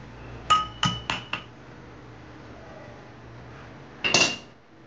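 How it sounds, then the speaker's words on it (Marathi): Garlic cloves crushed for a Goan-style mango raita: four sharp knocks in quick succession, then a short burst of two or three more, close and clear in a quiet kitchen. "मी ह्या लसणीच्या पाकळ्या आहेत ना थोड्या अशा ठेचून"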